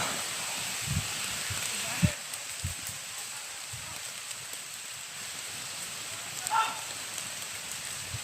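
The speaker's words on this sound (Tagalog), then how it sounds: "Grabe, ang lakas talaga ng ulan." Steady hiss of rain pouring down, a constant broadband wash with a few scattered thumps and drips, fairly distant and even throughout.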